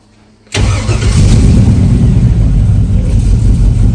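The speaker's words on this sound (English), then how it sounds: "it's got that cool hot roddy lope to it, but it's because it's missing." An old car engine, running rough and missing on cylinders, catches suddenly and settles into a loud, close, uneven lumpy idle with a loping rhythm, no voices over it.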